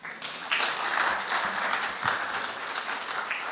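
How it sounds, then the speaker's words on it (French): A church congregation at a Sunday service applauds a woman being introduced, a soft swell of many hands clapping that rises quickly and holds steady at moderate distance. "Vous pouvez l'applaudir."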